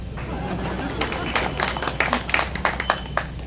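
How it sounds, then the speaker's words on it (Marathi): Audience applause at a Marathi public lecture, scattered claps building into a fuller round amid crowd murmur, moderately distant in a hall. "टाळ्या वाजवायला काही हरकत नाही."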